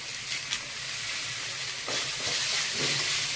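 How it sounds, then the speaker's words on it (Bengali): Bay leaf and ground ginger, cumin and coriander paste hit hot oil while a prawn malai curry is being made, giving a steady, close, broadband sizzle. A few soft stirring scrapes come through partway. "তেজপাতা দিয়ে দিই"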